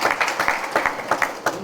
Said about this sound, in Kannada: ಸ್ವಲ್ಪ ಚಪ್ಪಾಳೆ ಹಾಕಿದ್ರೆ